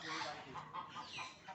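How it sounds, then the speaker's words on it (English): A red pheasant calls at a bird park. Brief, faint, clucking calls repeat in quick succession. "It's a red pheasant."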